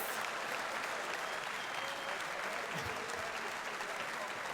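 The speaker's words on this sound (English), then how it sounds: "This is your applause." A large audience at a sim racing championship expo event gives sustained, dense applause for the champion, steady and fairly loud throughout.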